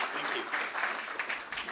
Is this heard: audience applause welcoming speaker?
yes